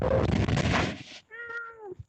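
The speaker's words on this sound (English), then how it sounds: "And Eric, be quiet. Jesus, cat." A house cat meows once, a clear drawn-out call following a burst of loud noise, close and alone for a moment.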